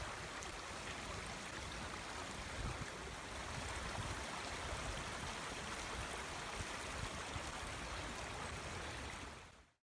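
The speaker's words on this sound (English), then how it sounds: "I'm surprised to find a flowing stream." A flowing stream among trees on a wooded slope, giving a steady, full rush of water that runs unbroken for the whole stretch and then cuts off abruptly near the end.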